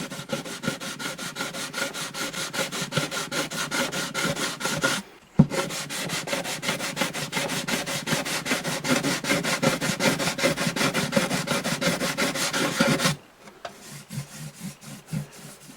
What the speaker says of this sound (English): I want to go with a finer sandpaper and dress that up a little bit